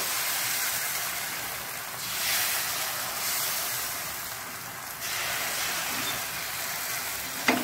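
Ragi, fenugreek seed and cucumber dosa batter sizzles steadily on a hot pan, a continuous broad hiss with soft surges, heard alone without talking.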